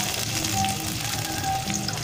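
Garlic, shallots and chili frying in a pan, a steady close sizzle that holds evenly throughout with a faint high whine over it and no voices.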